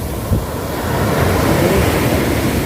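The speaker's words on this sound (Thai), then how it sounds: "คลื่นใหญ่คลื่นใหญ่มากนะคะ" Big ocean waves roll onto the shore at Bang Saray Beach in Sattahip, Chonburi, at sunset. The surf is a steady, loud rush that swells midway, with some wind buffeting the microphone.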